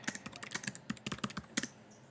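Rapid, light keystrokes clatter on a computer keyboard, about a dozen crisp taps in quick uneven rhythm, close and alone.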